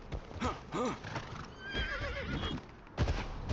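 A horse in the Game of Thrones: Kingsroad video game neighs several times with clopping hooves beneath, a moderately loud in-game sound with no talk over it.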